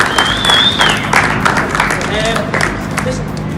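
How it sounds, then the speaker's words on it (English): Crowd applause at a 7-a-side football tournament, a steady wash of clapping with crowd noise and some voices mixed in, held at an even level for a few seconds. "a little round of applause for him"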